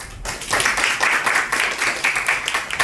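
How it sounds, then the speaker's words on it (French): Audience at a conference for Djiboutian graduates breaks into steady clapping after a brief quiet start, dense and sustained for nearly three seconds with no voices. "Donc il faut les applaudir pour cette fois."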